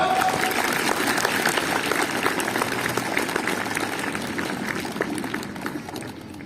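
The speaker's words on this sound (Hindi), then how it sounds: "आप ताली बजा जोर से।" Schoolchildren clapping together on request at a gathering, a dense burst of many hands that holds steady and then gradually thins and fades toward the end.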